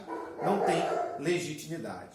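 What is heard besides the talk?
dog barking in the background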